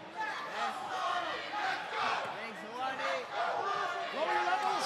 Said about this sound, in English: The crowd's calling for Hoani to push it up.